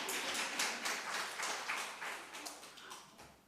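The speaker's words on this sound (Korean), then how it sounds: "동의하시는 분만 박수." An audience claps together during a church training talk, a steady patter of many hands that fades gradually over a few seconds.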